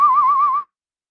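One person whistles a single short, loud, close note that wavers with a quick vibrato and stops sharply after about half a second.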